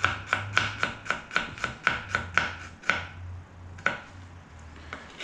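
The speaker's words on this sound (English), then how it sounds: "1 clove, which we're going to mince" A sharp kitchen knife mincing a single garlic clove on a cutting board, with quick, steady chops in an even rhythm that slow to a few scattered strokes, close and clear with no talk.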